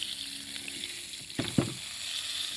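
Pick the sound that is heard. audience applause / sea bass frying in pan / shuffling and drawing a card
sea bass frying in pan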